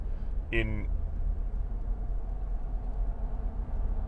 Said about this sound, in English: that truck behind me is loud